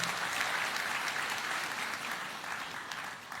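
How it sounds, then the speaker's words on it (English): An audience applauds a dignitary at a public event, with steady, dense clapping that holds at an even level throughout. "Can we please quickly applaud His Excellency?"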